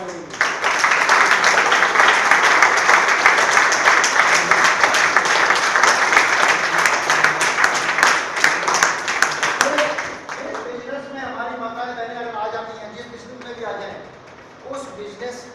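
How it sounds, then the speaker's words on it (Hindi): An audience at a business training session breaks into strong, dense applause for about ten seconds, then the clapping thins out and a voice carries on talking. "और एक बार जोरदार ताली हो जाए"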